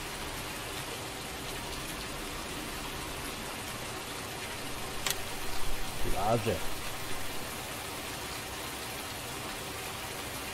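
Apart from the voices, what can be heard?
rain in video game Farming Simulator 19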